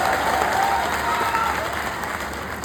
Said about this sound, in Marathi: आपल्या सर्वांच्या टाळ्या वाजल्या पाहिजे.